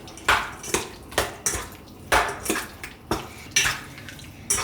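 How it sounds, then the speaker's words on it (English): Repeated wet scraping and clattering against a bowl as chicken wings are mixed, a steady rhythm of mixing strokes close by, with no voices. "so now we're just gonna give these wings a quick mix."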